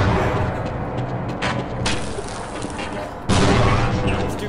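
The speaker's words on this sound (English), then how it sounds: "a grenade ain't fun." Grenade blasts and gunfire in a first-person shooter video game, with sudden loud booming bursts cutting in over a constant dense din of battle noise and rumble, close and heavy.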